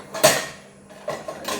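An aluminium idli vessel hits the floor with a sharp metallic clatter, followed by a softer rattling clank a moment later as it settles.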